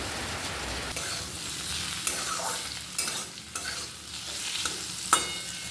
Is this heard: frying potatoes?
yes